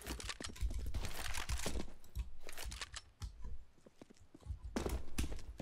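Rapid, dense enemy footsteps in the shooter game CS:GO, clattering like galloping horses, a continuous flurry of close, loud steps with a brief lull midway.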